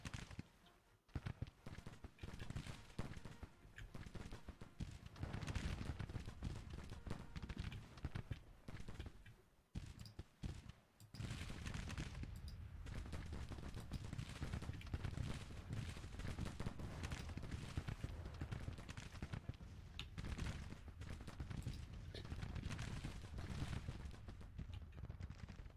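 Musket volleys in a Grand Tactician battle make a constant far-off crackle of massed fire with brief lulls. It rumbles on steadily under the battlefield din.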